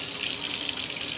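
Shower water runs steadily and loud after being switched back on during a Delta 1300/1400 shower cartridge replacement, a continuous close hiss of spray with no breaks and no talking.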